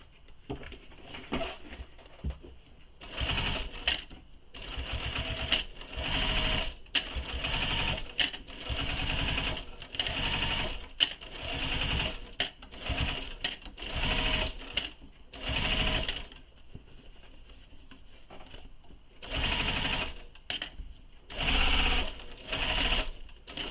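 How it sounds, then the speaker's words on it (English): A domestic sewing machine stitches the seams of a fabric shoulder bag in repeated bursts of steady, fast needle whirring separated by short pauses, loud and close with no talk. "make sure you're at a stitch length that you use for stitching your seams together"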